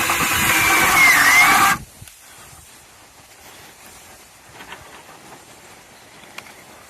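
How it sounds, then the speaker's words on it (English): A power drill driving a screw while setting up blueberry plants whines loudly in a short burst for under two seconds, then cuts off, leaving quiet room noise with a few small knocks. "So I'm going to drill."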